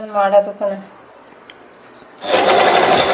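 Usha zig zag domestic sewing machine running a normal straight stitch, a steady loud whirring burst in the final second after a short spoken phrase and a quiet pause.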